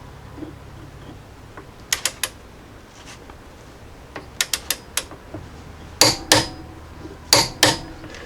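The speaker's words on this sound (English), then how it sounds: "then lastly we'll torque this guy down to 178 foot-pounds" Wrench clicks ring out as a strut bolt on a 2016–2021 Jeep Grand Cherokee is torqued down, sharp metallic ticks in short bursts of two to four, close and fairly loud over a quiet garage background.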